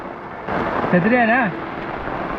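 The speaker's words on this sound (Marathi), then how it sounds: "हळूहळू काळ्या ढगांनी आभाळ सावरायला सुरुवात केली आणि जोरदार पावसाला सुरुवात झाली" Steady, loud rain pours throughout as a dense hiss under dark clouds on a Sahyadri ghat trail, with a brief voice-like tonal sound riding over it for a moment in the middle.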